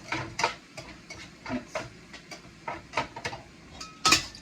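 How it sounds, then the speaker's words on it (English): Sharp, irregular clattering and scraping of a utensil against a hot pan, with bursts of sizzle throughout and a brighter clank near the end. "Okay, so I'm going to start stir frying this."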